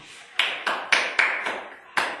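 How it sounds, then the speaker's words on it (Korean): Six sharp, separate hand claps in a classroom, spaced irregularly about a quarter second apart, close and crisp with quick decay, more like a few people clapping than a full ovation. "기립박수 쳐야 된다"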